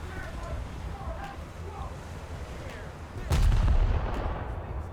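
A heavy naval gun blast booms out in a warship combat video game featuring the cruiser USS New Orleans, a single loud low-heavy report near the middle followed by a rumbling tail, with a voice talking over the scene.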